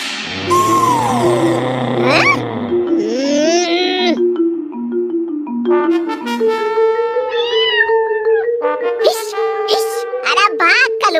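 A cartoon cat meows repeatedly in loud, close, drawn-out cries, interleaved with animated characters' voices speaking.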